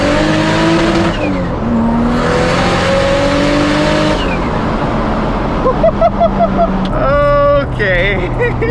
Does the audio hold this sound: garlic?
no